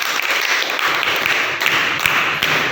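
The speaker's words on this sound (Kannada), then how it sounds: "ಚಪ್ಪಾಳೆ." A group applauds at a school quiz programme as a team's score of eight points is announced, a continuous, moderately loud patter of many hands clapping, with a voice faintly in the background.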